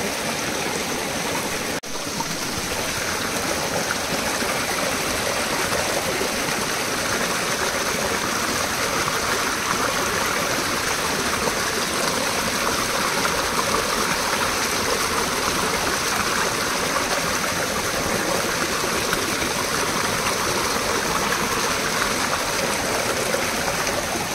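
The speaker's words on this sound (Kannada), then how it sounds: "ಇದು ನಮ್ಮ ಮನೆಯ ಮುಂದೆ ಉಂಟು ತೋಡು, ನೋಡಿ ಯಾವ ರೀತಿಯಾಗಿ ನೀರು ಹೋಗ್ತಾ ಉಂಟು" A stream of water flows past the front of a house, a steady, dense rushing and gurgling that holds at a constant level for the whole stretch, with no voices over it.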